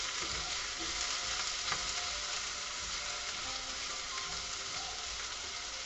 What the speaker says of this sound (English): we get the garlic in there. And get it to where it's just browned up a little bit.